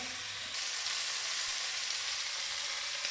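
Duck meat sears in a hot pan with a steady, loud crackling sizzle that jumps in intensity after a brief start and then holds continuously, close up with no talking.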